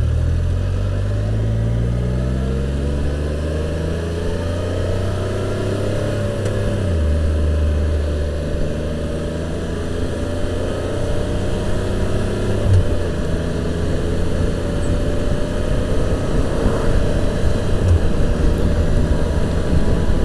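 A 2015 Can-Am Spyder RT engine running steadily through a demo ride, loud and continuous with low rumbling tones that rise and drop as the rider shifts without releasing the throttle, heavy wind noise throughout and no talking.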